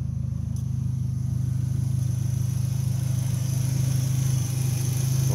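An electronic fuel injection car engine runs smoothly at a steady idle, a strong constant low hum with a faint high whine above it, close and uninterrupted.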